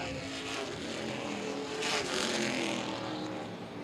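A pack of late model race cars roars past on the Baer Field Speedway oval during a feature event, engines blaring together and swelling to a peak before trailing off, with no voices heard.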